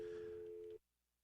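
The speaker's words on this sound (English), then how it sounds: "should be dialing" Telephone line dialing out during a radio call-in show, a steady electronic tone held for under a second that then cuts off into near silence, faint and with no one talking.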